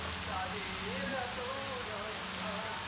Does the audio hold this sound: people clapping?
no